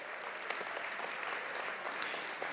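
Audience at a university academic and athletics award banquet applauding an honoree, a soft, steady, fairly distant patter of many hands that continues evenly without talk.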